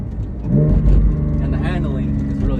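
Porsche Cayman GT4 (718) engine revving hard at full throttle in first gear, a loud close rising engine note with harmonic whine, with someone speaking over it.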